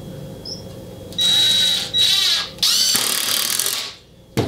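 Ridgid cordless impact driver running close and loud in bursts, with a high motor whine that breaks into rattling hammer impacts in the later runs before falling quiet.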